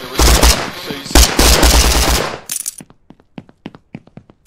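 Machine gun fire in the video game Police Force Greed of Man: loud, rapid bursts close by, then the firing stops and a series of sharp, sparse clinks and ticks trails off.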